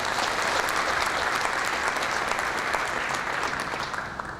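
Sustained applause from a large audience at a peace convention in Kenya, a dense steady clapping that fills the space and tapers slightly toward the end.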